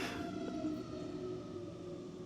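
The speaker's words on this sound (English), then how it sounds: "Oh, there's sirens going outside my window." A siren wails steadily in the distance, its long sustained tone heard faintly as if from outside, with no talking.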